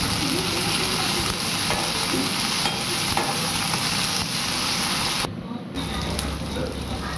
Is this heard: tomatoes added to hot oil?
yes